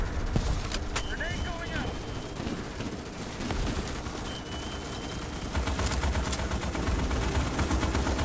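Rapid automatic gunfire from a Starship Troopers Extermination firefight rattles continuously through the whole stretch, loud and dense, with booming impacts and battle noise layered underneath.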